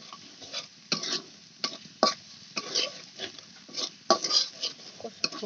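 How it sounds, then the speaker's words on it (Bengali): Ground paste of ginger, garlic, green chili and onion cooking in a pan, heard as repeated close scraping and stirring strokes with a faint sizzle underneath, in an uneven rhythm. "মশলাগুলো আমি কষে নিলাম।"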